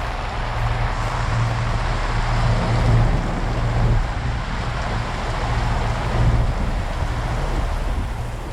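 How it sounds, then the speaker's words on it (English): Heavy rain pours onto a sailing boat on the open ocean with strong wind, a dense, continuous loud hiss mixed with wind rumble and wave wash and no breaks. "It is bucketing down."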